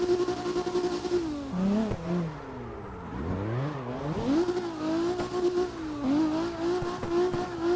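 Car drifting in a video game, with a loud close engine that holds a steady pitch, dips and sweeps back up as the revs change, and a faint tire squeal riding along without pause.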